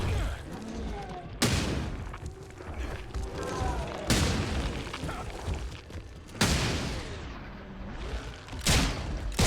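Grenades explode during play of the horror video game The Sinking City, heavy booming blasts and bursts arriving in several separate waves over the clip, loud and close amid in-game noise.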